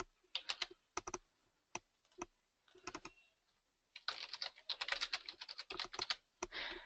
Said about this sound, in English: I'm going to enter my credentials.